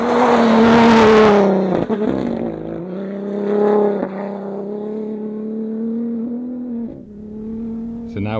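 An Audi rally car drives at the 2023 Dakar Rally, its engine droning loudly and close from inside the cabin, with a strong rising rev at the start, a brief gear-change dip, then a sustained steady pull.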